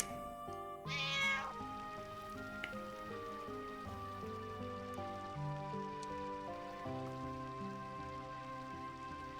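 A cat in the video game Final Fantasy 9 lets out a short meow over gentle background music and a soft patter of rain, with sustained melodic tones throughout.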